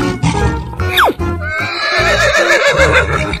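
Horse lets out a loud, close neigh with a sharp rising-falling whinny, followed by lower snorting and hoof sounds in a brief burst.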